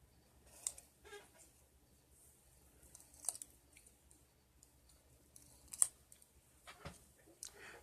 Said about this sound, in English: Try to keep your scissors steady and straight.